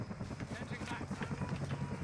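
An enemy helicopter lands in Call of Duty: Modern Warfare, its rotor thumping in a fast, steady pulse, loud and close, with a voice speaking underneath.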